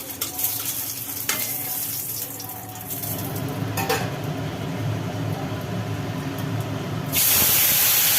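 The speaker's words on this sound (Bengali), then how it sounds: "তেলটা গরম হয়ে যাওয়ার পরে তেলে পড়লো রাঁধুনি আর তেজপাতা" Radhuni and bay leaves sizzle in hot mustard oil in a kadai, giving a loud, steady, close frying hiss. Scattered clinks are heard, and the hiss surges brighter and stronger near the end.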